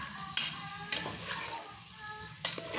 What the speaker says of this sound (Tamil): ஒன்றா சேர்த்து கரண்டியால் மசிச்சு எடுத்துக்கலாம்